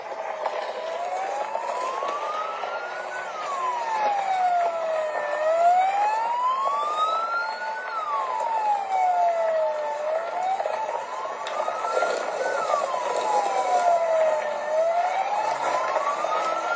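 Sirens on official motorcade vehicles wail loudly and continuously, the pitch sweeping slowly up and down in repeated cycles over a steady traffic rumble, with no clear talking.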